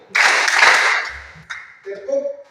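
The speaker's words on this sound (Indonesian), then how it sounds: "Tepuk 2 kali." A group in a classroom claps together in a loud, ragged burst of many hands, followed by a smaller second clap, and then a voice starts speaking.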